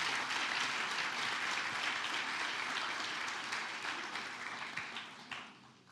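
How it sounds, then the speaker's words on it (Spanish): Loud, dense applause from a church congregation, sustained steadily for several seconds before thinning out and fading at the end. "Si le vas a dar un fuerte aplauso,"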